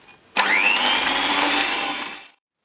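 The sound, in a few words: electric hand mixer creaming cookie dough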